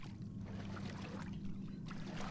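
Water flows and trickles in the video game The Bradwell Conspiracy, a faint, steady wash with soft pouring and splashing textures and no voices.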